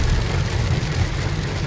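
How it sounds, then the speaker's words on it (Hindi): Heavy rain drumming on a moving car while driving, a dense steady hiss with strong low engine and road rumble throughout, close and continuous. "इतनी तेज बारिश हो रही है"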